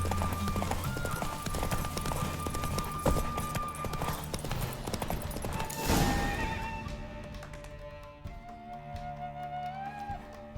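A horse in The Witcher 3 gallops with rhythmic clip-clop hoofbeats and lets out a loud whinny, under game music and ambience.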